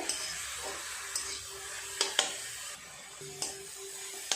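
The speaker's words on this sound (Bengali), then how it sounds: "এইভাবে গাজরগুলোকে নেড়ে চেড়ে ঘিয়ের সাথে একটু ভেজে নিতে হবে" Grated carrots for carrot halwa stirred and fried in ghee, a quiet sizzle broken by several scraping strokes and light clinks of the spoon against the pan, near and without talk.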